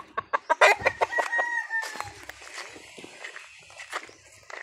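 A rooster crowing in a Philippine neighborhood, one drawn-out crow following a burst of sharp clucks and footstep-like taps, fairly close, with faint background noise.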